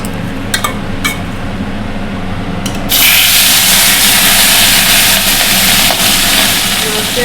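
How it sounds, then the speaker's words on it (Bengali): Rohu fish slid into well-heated oil: after a few seconds of quiet room noise with light knocks, a loud, sudden burst of sizzling starts and holds steady close by. "তেলটা ভালো করে গরম হয়ে গেছে আমি এবার দিয়ে দেবো মাছ"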